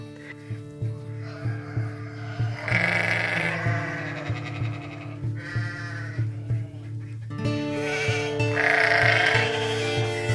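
Sheep bleat repeatedly, several loud wavering calls overlapping, over a steady low hum in the background.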